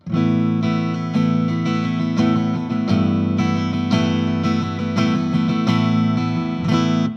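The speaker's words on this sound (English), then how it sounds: "And now the tone control is a reverb. So it's adding more reverb." A Fender VG Stratocaster modeling electric guitar plays sustained strummed chords with reverb from its tone control, loud and close, with a few chord changes and no talking.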